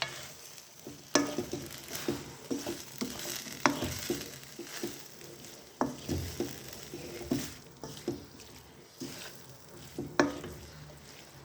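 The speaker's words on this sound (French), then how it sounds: "Et là, on va remuer gentiment." Marinated pork chops are gently stirred in a pan, soft sizzling and frying under a series of irregular scraping and tapping strokes of the utensil, close and fairly quiet, with no voices.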